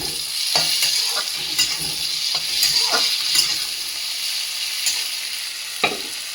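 Tomatoes and coriander stems go into a frying pan for a fish recipe: a strong, hissing sizzle with repeated scraping stirs and a few louder splutters, close and steady, with no talking.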